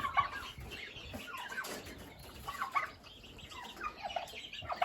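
Hens and turkeys clucking and chattering nearby, irregular calls overlapping in a busy coop, no voices.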